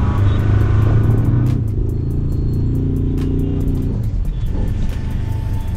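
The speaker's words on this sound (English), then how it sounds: "I'm launching a pickup truck." A 2021 Ford Ranger Raptor pickup with a 2.0 L diesel engine launches and accelerates hard on a rough road, its engine rising to a loud, close, throaty roar that then settles.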